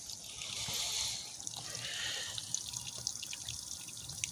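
Water runs from an outdoor tap with a steady hiss and trickle, swelling and easing slightly, with a few sharp drips and clicks toward the end; no talking.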